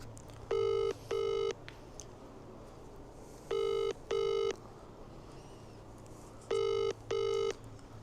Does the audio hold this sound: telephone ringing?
yes